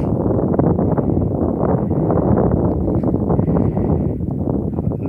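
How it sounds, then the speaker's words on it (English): Outdoors in a UK field during metal detecting, steady wind buffets the microphone head-on, a dense continuous low rumble and roar that fills the whole stretch without letting up. "Sorry about the wind in this one, if you can hear it, because I'm facing into the wind this time."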